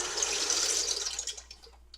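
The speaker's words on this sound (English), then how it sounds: "So I'm going to start off with my pasta. I'm going to dump it in the water." A splashy rush of water as pasta is dumped into a pot of water, fading quickly into a few faint drips.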